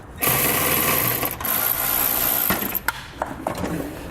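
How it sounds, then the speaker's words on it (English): A fascia screw being backed out with a power driver and an 8mm socket during a hidden trailer hitch install on a 2014 vehicle, giving a steady close whirring whine for a few seconds, then a few clicks and knocks. "So I'll take my 8mm socket and pull it out."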